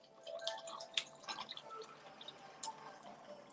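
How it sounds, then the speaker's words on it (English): Jack Daniel's Tennessee Honey whiskey poured into a glass, with faint, close trickles and a few distinct drips and clinks scattered over a few seconds in a quiet room. "Could you hear the pouring of my Jack Daniel's Tennessee honey?"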